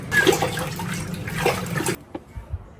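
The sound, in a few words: child splashing and playing in water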